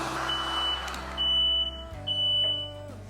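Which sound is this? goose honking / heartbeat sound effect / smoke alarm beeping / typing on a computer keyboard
smoke alarm beeping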